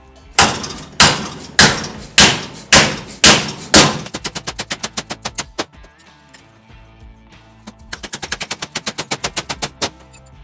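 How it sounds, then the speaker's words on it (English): Heavy hammer blows fold a 1/8 inch steel plate on a rat rod cab build: seven loud, ringing metallic strikes at a steady beat, then quicker, lighter taps in two rapid runs. Nobody speaks. "It's just 1/8 inch plate, so it's not too bad to fold with the hammer."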